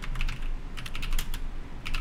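Keys clatter on a computer keyboard in short bursts of quick close taps, with brief pauses between the groups.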